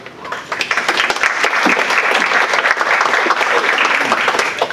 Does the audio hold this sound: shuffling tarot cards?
no